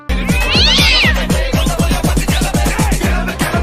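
A cat meows close and loud, a strained caterwauling cry near the start, over a fast repeating thumping rhythm that pulses throughout.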